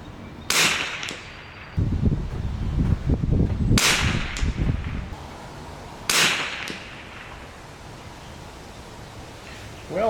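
Three loud, sharp shots from a Springfield 2020RF rifle, spaced a few seconds apart and each followed by a short ringing tail, with some rustling between them.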